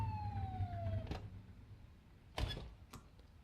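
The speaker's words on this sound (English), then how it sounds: "Get behind them and flip the siren and make them pull over." A police car siren in the video game The Precinct gives a falling wail that slides down and dies out within about a second, followed by a few dull knocks over a low engine rumble.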